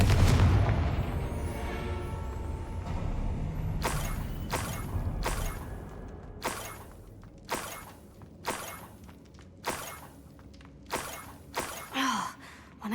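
Confringo fire spell blasts in the video game Hogwarts Legacy: a rumbling opening burst followed by a string of about eight sharp, punchy explosive impacts at a steady pace, loud and close over game ambience.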